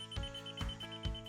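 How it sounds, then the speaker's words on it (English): A laser level receiver beeps three times in a steady rhythm, each tone short and electronic, close and fairly quiet, with no one talking. "That fast beep means you're right on it. The solid beep is when you're, perfect."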